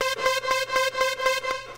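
A Logic Pro classic trance synth lead preset plays a bright, buzzy tone with heavy reverb and modulation, pulsing in steady, even stabs about four times a second, loud and alone with no voices.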